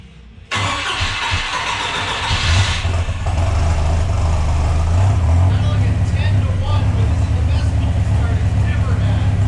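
A Rat10 project car engine cold-starts with a sudden loud catch, then settles into a steady, rumbling idle with a strong low drone, heard up close with no talk over it.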